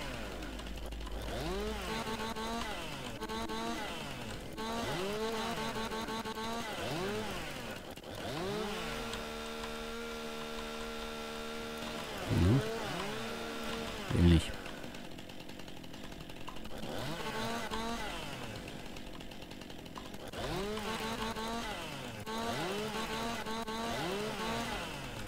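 A dull chainsaw in Farming Simulator 19 revs and whines in repeated rising-falling strokes while bucking logs, loud and continuous, with a sustained high-pitched cutting stretch and a couple of sharp knocks in the middle.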